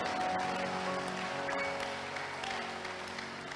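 Church congregation clapping during a Sunday service, a dense steady wash of many hands that sounds fairly close and fades slightly toward the end, with a faint hum underneath.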